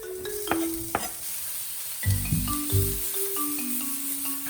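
Peppers and onions cook in a pan for a black bean quinoa enchilada bake. A soft sizzle runs underneath while a utensil scrapes and knocks a few times, the louder stirring bursts coming near the end.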